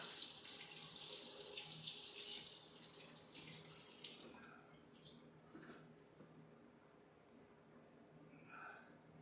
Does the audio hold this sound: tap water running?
yes